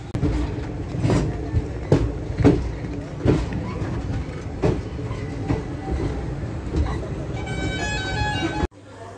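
At crowded Ambala railway station, a train rumbles past with a rhythmic clickety-clack of wheels over rail joints, fairly loud and steady, with voices mixed in before the sound cuts off abruptly.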